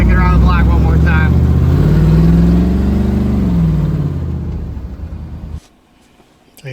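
A custom Ferrari 4x4 build drives around the block, its engine droning and rising in pitch close by, with people talking over it, before it cuts off into near silence.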